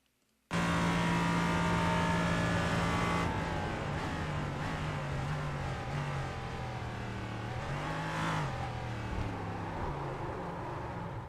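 LMP3 race car at Spa in a racing video game, its engine droning loudly and continuously as it accelerates, with pitch rising and stepping through gear changes, starting abruptly after a brief silence.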